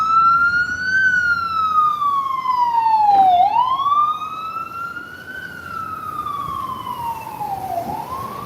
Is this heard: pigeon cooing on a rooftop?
no